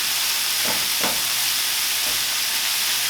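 Food browns in a dry pan with no liquid, giving a steady loud sizzle and hiss throughout, with a few brief scraping stirs breaking through.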